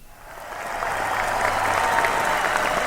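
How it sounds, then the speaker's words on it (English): Studio applause on a sports talk radio show, a steady wash of clapping that swells in the first half second and then holds level and fairly loud, with no talking over it. "An astounding round of applause for them"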